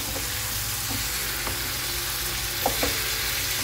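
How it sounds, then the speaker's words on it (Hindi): Tomatoes stirred into a spice masala frying in a pan for a stuffed bitter gourd dish, giving a steady close sizzle with a few soft spoon scrapes and taps against the pan. "अब मैं डाल दूंगी इसमें टमाटर। इसको मिक्स कर दूंगी।"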